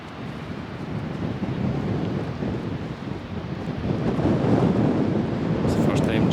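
Wind blows across a beach on the Isle of Skye, rumbling hard against the microphone over the wash of waves, growing louder and gustier toward the end.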